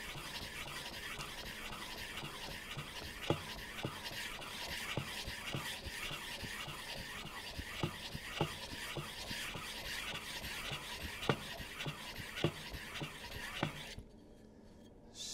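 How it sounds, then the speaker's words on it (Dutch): Long track speed skate blade being sharpened on the fine side of a stone, a continuous close rasping scrape with regular stroke accents over about fourteen seconds before stopping. "Ik herhaal nog een keer het slijpen met de fijne kant."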